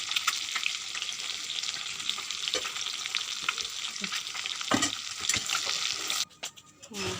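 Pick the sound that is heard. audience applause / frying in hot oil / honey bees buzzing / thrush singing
frying in hot oil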